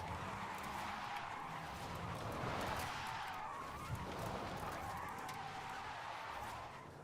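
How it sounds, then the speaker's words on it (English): A Tesla drifts in a video game, its tires skidding in a steady, loud squeal that swells and fades over several seconds against a broad, continuous road roar, with no voices over it. "Drifting the Tesla."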